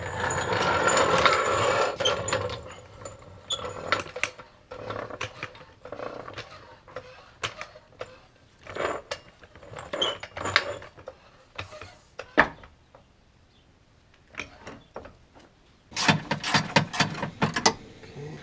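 Metal clicks and ratcheting from a socket wrench loosening bolts on the gas tank skid plate under a Jeep Wrangler, coming in bursts with pauses and a louder cluster near the end, close by and alone.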